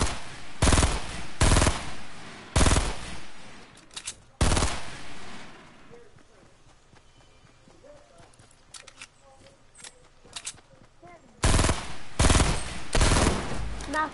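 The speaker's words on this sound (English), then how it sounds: "Kill this dude with the shotgun." Shotgun blasts in the video game Fortnite, several loud sharp bursts in quick clusters at the start, a quieter gap with scattered small sounds, then another rapid volley near the end.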